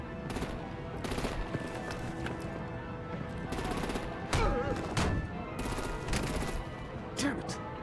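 Video game combat with bursts of machine gun fire and heavier booming shots from artillery, rattling repeatedly throughout at moderate level, with brief voices under the gunfire.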